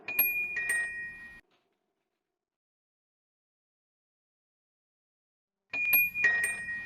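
Electronic doorbell chiming a two-tone ding-dong, played twice with a long silent gap between, each chime clear and ringing out close by.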